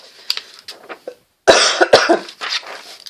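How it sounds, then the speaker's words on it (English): A few harsh coughs, one short burst early then a louder, close fit of several coughs in quick succession. "I started coughing all of a sudden."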